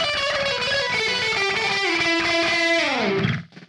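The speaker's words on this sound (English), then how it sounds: "it has that really kind of awesome slap echo sound that was so typical of that late 60s, early 70s sound" Electric guitar run through a Bias FX 2 blues preset with slap echo delay, a distorted sustained phrase whose repeats trail off, then a gliding bend down as the sound cuts out near the end.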